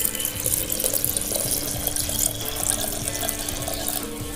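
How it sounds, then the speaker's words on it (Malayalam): Boiled and cooled water is poured over grapes for homemade grape wine, a steady close splashing stream that runs without a break and with no talk. "അപ്പൊ ഇതിലേക്ക് നമുക്ക് വെള്ളം ഒഴിച്ചു കൊടുക്കാം."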